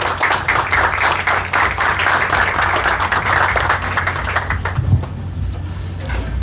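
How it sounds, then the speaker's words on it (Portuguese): An audience applauding to welcome a speaker onto a stage at an evening talk, dense sustained clapping from a full room that starts to thin out near the end. "Senhoras e senhores, recebam também com carinho e aplausos José Pedro Gomes, da Demelo Incorporações."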